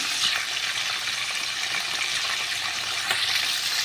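Hilsa fish pieces fry in oil with a loud, even, continuous sizzle and a few faint pops, heard up close with no speech.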